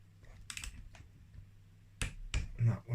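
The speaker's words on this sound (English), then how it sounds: "You hear the clicking of the torque wrench." A few sharp, dry clicks from a torque wrench reaching setting on engine bolts during a 1993-2001 Yamaha YZ80 top end rebuild, close and isolated with quiet gaps, then a quick cluster of handling noises at the end.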